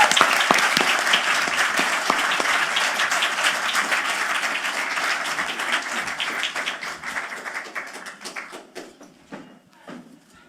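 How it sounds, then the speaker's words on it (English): An audience applauds a panel at a Virgin Voyages event, a loud, dense round of clapping that gradually thins and fades over about ten seconds, ending in a few scattered claps. "a big round of applause for everybody"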